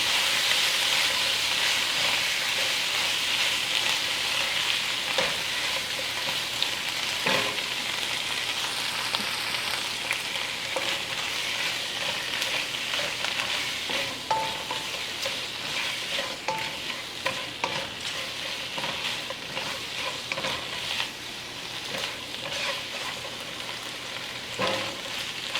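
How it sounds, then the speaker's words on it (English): Shrimp sautéing in a pan for a vindaloo with dried tomatoes and vegetables, a loud continuous sizzle and hiss with intermittent scraping and clinking of stirring, alone with no talk. "Now let's add the shrimp. Saute like 2 minutes."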